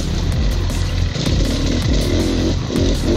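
An enduro motorcycle with a four-stroke engine, ridden hard along tree-lined single track. Its loud, close engine drone runs steadily throughout, with rising and falling revs and no talking.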